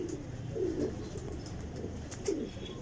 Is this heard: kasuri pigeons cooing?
yes